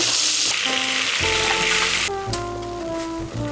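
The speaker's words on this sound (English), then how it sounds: "We're gonna make a cheese sauce in this pot. Okay, so I'm putting in a little over half a stick of butter. And we're gonna put 4 tablespoons of flour." Butter and flour sizzle and fry in a pot as a roux for cheese sauce, a steady close crackling hiss that runs throughout the clip with no talking.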